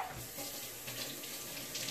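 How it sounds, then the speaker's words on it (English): Tap water running steadily into a pot of potatoes at a kitchen sink, a close, even rushing hiss with no pauses and no talking. "let's put some water in these potatoes"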